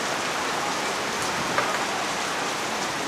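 Steady, dense rain falls in Chiang Mai, Thailand, a constant close hiss of drops on surfaces with no pauses and no talking.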